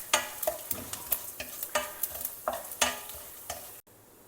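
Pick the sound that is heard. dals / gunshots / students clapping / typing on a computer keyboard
dals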